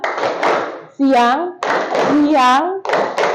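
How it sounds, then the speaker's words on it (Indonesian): Bursts of hand clapping from a classroom of pupils, alternating with children's chanting voices, several short loud rounds close by. "tepuk tangan untuk kita semua"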